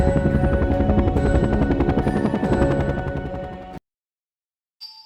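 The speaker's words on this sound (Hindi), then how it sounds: "उसने हेलीकॉप्टर टेक ऑफ किया और समंदर की ओर जाने लगा।" A cartoon helicopter takes off with a loud, dense rotor chop that thunders for several seconds, then cuts out abruptly, followed by a brief faint tone.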